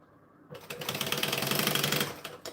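A sewing machine stitches a handbag in a steady rapid clatter that starts after a brief quiet moment and runs on close and clear, with no voices.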